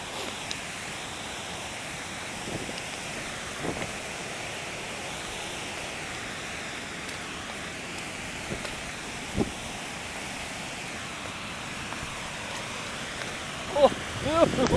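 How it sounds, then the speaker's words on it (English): A large main waterfall in Snowdonia, a steady broad roar of falling water heard close and continuous, with a few faint knocks and wind gusts near the end. "Here it is, folks. The main waterfall that I wanted to show you."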